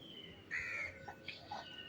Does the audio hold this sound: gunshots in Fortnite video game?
no